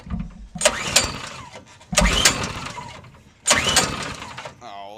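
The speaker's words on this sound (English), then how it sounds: "it's time, the moment of truth, to fire it up and see if it runs good" A 6.5 hp mud motor engine being pull-started three times in succession; each pull gives a loud rising mechanical rattle and sputter that dies away without the engine catching, with short pauses between attempts.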